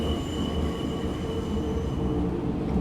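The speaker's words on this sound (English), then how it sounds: "Oh, the flange, it sounds fantastic." A Berlin U-Bahn U1 train in the SubwaySim 2 game gives a sustained, high metallic flange squeal from its wheels over a low rumbling rail roar, continuous and fairly close.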